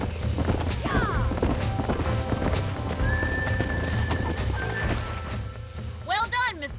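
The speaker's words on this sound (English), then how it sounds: "These are fine horses." Horses in the Red Dead Redemption video game clip-clop steadily over a busy ranch backdrop, with a loud whinny near the end and another fainter neigh earlier, amid ambient game sounds.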